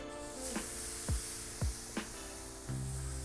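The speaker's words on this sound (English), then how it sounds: "I'm going to hit it with a little non-stick cooking spray" Non-stick cooking spray hisses onto a hot grill grate before pork steaks go on, a steady close spray with a few brief sharp pops and knocks through it.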